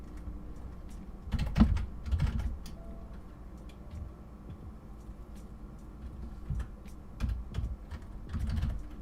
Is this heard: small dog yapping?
no